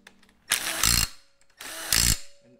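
A power tool tightens 12 mm bolts on a Nissan cam angle sensor bracket in two short, loud whirring bursts about a second apart, with quiet pauses around them.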